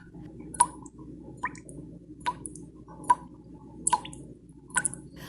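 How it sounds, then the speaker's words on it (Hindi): Cartoon effect of honey dripping from a forest beehive, sharp separate drips falling in a loose irregular rhythm, about seven drops over a faint low background. "जहां शुद्ध और मीठा शहद टपकता रहता था।"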